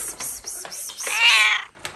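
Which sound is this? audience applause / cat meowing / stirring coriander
cat meowing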